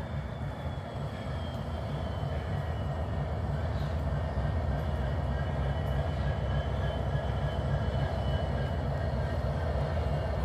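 A Norfolk Southern diesel locomotive rumbles through a railyard, a loud, continuous low engine drone with steady mechanical texture, no voices.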